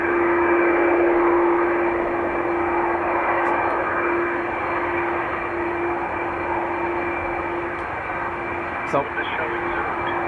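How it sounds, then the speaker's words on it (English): An Airbus A330 jet airliner at Dublin Airport produces a loud, steady engine roar that holds for several seconds and then eases slightly, with a brief word spoken early on. "A330 going to be heading to San Fran."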